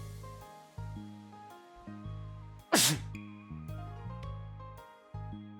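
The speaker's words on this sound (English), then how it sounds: "Oh, I'm about to sneeze." A single sharp human sneeze bursts out loudly over quiet, repetitive game background music.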